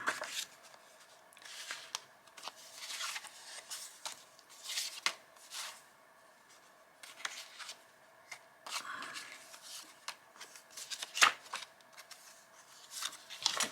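Library cards shuffle and tap softly as they are sorted by size, with irregular quiet rustles, slides and light clicks spread across a hushed room.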